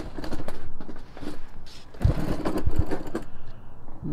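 A diesel heater on a cargo trailer camper runs without its muffler, producing a rapid, rhythmic mechanical pulsing chug at moderate volume, steady throughout with no talking.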